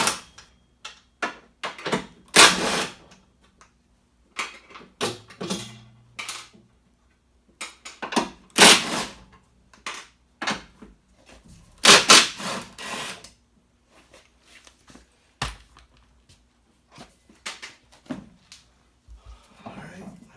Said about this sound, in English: The other strut bolt, and then undo the front bolt on top.